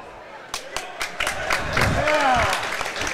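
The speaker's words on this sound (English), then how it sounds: "Hyman gets the old cheer from the Osmond crowd" During a boys high school basketball game, the Osmond home crowd in a gym gives a short cheer, mixed with a few sharp thumps and claps and a commentator's voice over the top.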